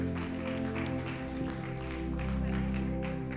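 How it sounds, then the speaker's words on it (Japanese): A church congregation claps in praise for Jesus at the close of a prayer in a bilingual Japanese-English worship service, steady broadband clapping beneath sustained tonal music throughout. "イエス様に拍手しましょう。"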